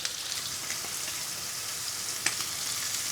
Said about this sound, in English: So just going to get the heat to high and make sure all the paneer cubes are touching the pan.